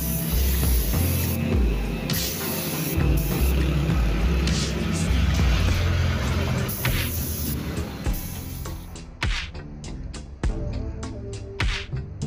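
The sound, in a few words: spray painting clear top coat on a car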